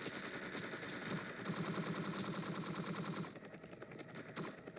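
Rapid automatic gunfire from the video game Entry Point sounds in sustained bursts. The firing stops about two-thirds of the way through, leaving quieter game ambience.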